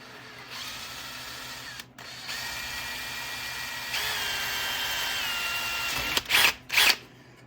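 Power drill boring a hole through the shaft and butterfly valve of a 1915 Model T stationary engine, a steady whining drive in several bursts with short pauses, ending in two quick sharp spurts, close and alone.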